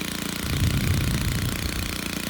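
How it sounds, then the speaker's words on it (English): A Stihl string trimmer's small two-stroke engine runs steadily nearby, a continuous buzzing drone that swells slightly in loudness midway and then settles, with no talking over it. "We'll do this with the trimmer running so you can see how it works."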